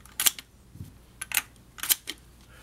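Shells being loaded into a Derya semiautomatic shotgun, three or four crisp close metallic clicks and snaps spaced about half a second apart, with no talking.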